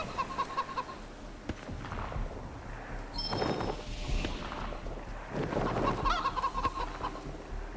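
Chicken from the game Wasteland 3 clucking in repeated short bursts and bawks, moderately close, over a low game ambience with scattered effects.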